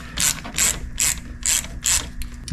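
A ratchet tightens a car's ground wire connection in five evenly spaced, loud, close bursts of clicking, each about a third of a second apart, with no talking.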